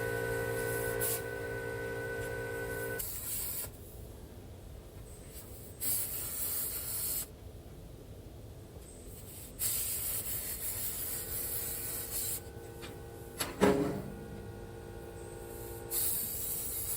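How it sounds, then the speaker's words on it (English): An HTP ProPulse MIG welder laying welds on a steel cabinet smoker, bursts of steady crackling hiss that start and stop in several passes of a few seconds each, close and moderately loud. "I'm just getting them welded on here. Using the HTP ProPulse."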